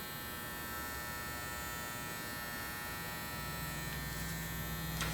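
An electric hair clipper buzzes steadily close up during a clipper-over-comb haircut, a constant high-pitched motor hum with slight changes in tone near the end as it moves through the hair.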